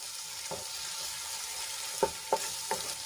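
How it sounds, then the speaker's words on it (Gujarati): Spices sautéing in a pan for a Gujarati gravy make a soft, steady sizzle, with a few short scraping stirs near the end; the sound is quiet and close, with no talking. "બધા મસાલાને આપણે એક મિનિટ માટે સાંકળી લઈશું જેથી કરીને મસાલા સરસ રીતે સંતળાઈ જાય"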